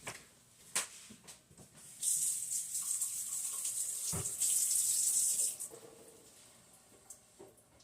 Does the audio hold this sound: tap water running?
yes